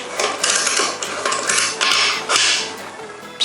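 A new stainless bolt is driven into a freshly tapped chain adjuster hole on a Kawasaki Versys 650, giving repeated close metallic clicks, ratcheting and scraping bursts in an uneven rhythm with no talking.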